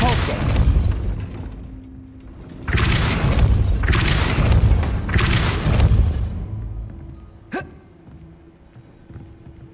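Depulso force-push spell in the PC game Hogwarts Legacy, fired as three booming blasts in quick succession after an initial hit, each loud and close, then a brief zap and quieter ambience.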